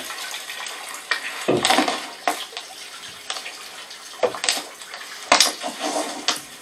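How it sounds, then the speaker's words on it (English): Rainwater from a badly placed gutter pours into a carport in a continuous rushing splash that surges and fades in irregular bursts, close and fairly loud. "Toute l'eau coule dans le campo."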